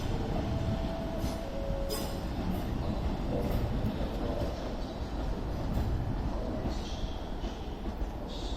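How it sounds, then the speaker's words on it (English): A Northern passenger train running from Manchester Piccadilly to Crewe pulls into Stockport station on the West Coast Main Line, its loud rumble rising with squealing wheels and brief high-pitched brake screeches before it settles. "Also coming in, we have the 11:13 Northern service to Crewe from Manchester Piccadilly."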